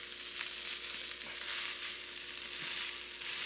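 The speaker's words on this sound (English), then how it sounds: "We just have to loosen up the rice a little bit" Day-old rice being loosened and broken up in a hot frying pan for andouille sausage fried rice, a steady close sizzle running throughout with faint scraping of a utensil underneath.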